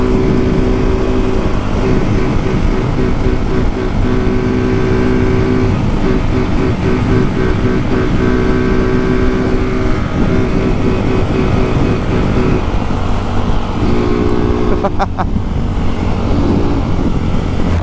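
Start 230 turbo motorcycle engine revving and accelerating along a street, a loud continuous buzzing drone with pitch shifts as it climbs through gears.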